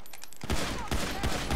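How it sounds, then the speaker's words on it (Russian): Gunfire in GTA V Online: a quiet opening breaks at about 0.4 s into a loud, sustained burst of rapid shots with several sharp peaks, close and dense like a fusillade. "я все в дерево выстрелил"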